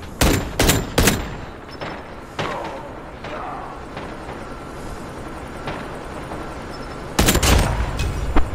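Gunfire in Call of Duty Mobile, several loud sharp shots in quick clusters at the start and again near the end, with game ambience and a faint voice between.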